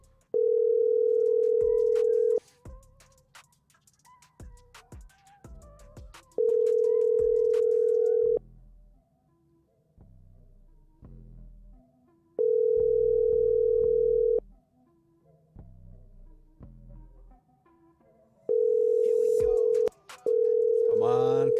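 An auto-dialer places phone calls with a loud, steady dial tone repeating in long bursts separated by gaps of faint clicks and room noise, heard nearby.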